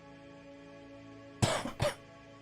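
A person coughs twice in quick succession, close and fairly loud after a quiet stretch, with no talking.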